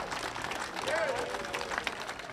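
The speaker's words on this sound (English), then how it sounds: "let's give an applause for Mayor James and the council leadership f" Outdoor crowd applause at a streetcar stop dedication in Kansas City, a steady, moderately distant patter of clapping with cheers and voices mixed in.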